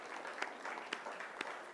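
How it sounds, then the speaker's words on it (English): A satsang audience gives a warm round of applause for the Rishikars, with many hands clapping in a dense, even patter and a few sharper claps standing out. "let's give a beautiful round of applause for our Rishikars"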